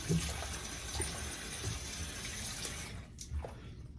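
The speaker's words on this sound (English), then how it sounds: "I'm gonna rinse off a little." Running tap water splashing in a sink while a face is rinsed after a safety-razor shave, steady and fairly quiet with a few soft splashes.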